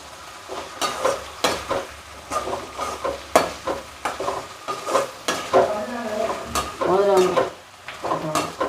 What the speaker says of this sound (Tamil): கொட்டி நல்லா வாசனை போகும் வரை நல்லா வதக்கணும்